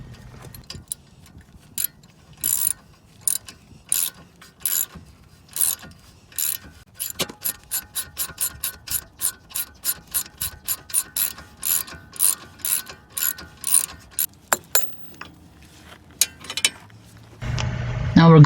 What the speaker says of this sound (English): use a 14mm open wrench on one side and a ratchet on the other side,